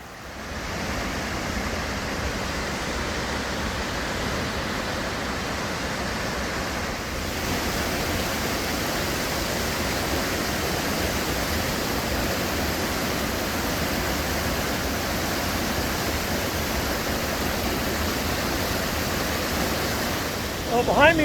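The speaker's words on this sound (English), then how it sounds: "This waterfall is at its peak right now." A steady, roaring rush of Chilnualna Falls in Yosemite National Park at peak flow fills the scene continuously, loud and broadband, with no breaks and no clear voices.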